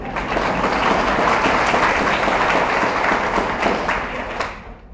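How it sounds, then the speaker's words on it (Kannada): A temple audience at a Sanskrit devotional discourse breaks into loud, sustained applause. Dense clapping holds steady for several seconds, then fades out at the end. "ಈಗ ಚಪ್ಪಾಳೆ ಹಾಕೋದು"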